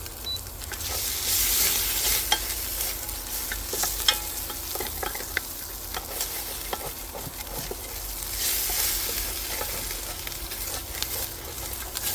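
Chopped onions and ginger fry in a pan for a chicken thigh stew, a continuous close sizzle with scraping stirring strokes and faint clicks running through it.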